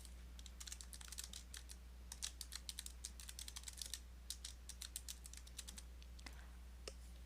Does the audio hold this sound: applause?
no